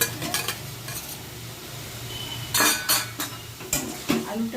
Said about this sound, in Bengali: আলুটা দিয়ে আমি আবার মিশিয়ে নেব